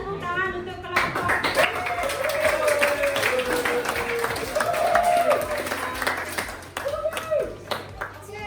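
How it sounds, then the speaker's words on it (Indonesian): Classroom applause for a group during an academic supervision session, a ragged round of hand clapping from a small group, mixed with voices talking over it and trailing off into scattered taps. "berikan tepuk tangan untuk kelompok"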